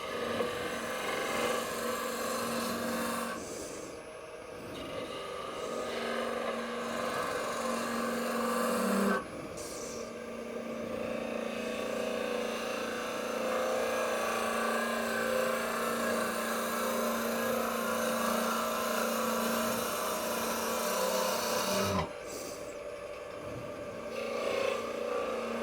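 Wood lathe turning a goblet from a branch, with the tool scraping off fine sawdust: a steady hum with rough scratchy cutting noise that stops briefly a few times and then resumes, moderately quiet.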